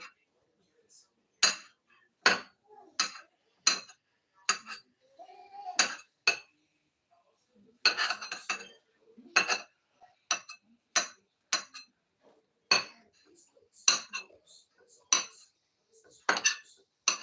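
A knife chops boiled eggs into smaller bits on a plate or board, producing a steady series of sharp clinks and taps at irregular intervals, close and clear, with faint scraping between strikes.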